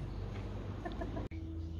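A pet chicken clucks in a few short, close calls over a steady low background hum, with a brief dropout near the end.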